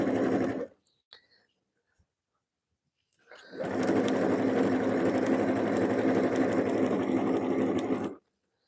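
FAF Quilt Ambition 635 sewing machine stitching farmhouse tea towels, a short burst of running followed by a pause, then a long steady whirring run close up before stopping abruptly.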